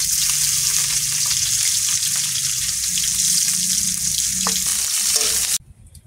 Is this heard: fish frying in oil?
yes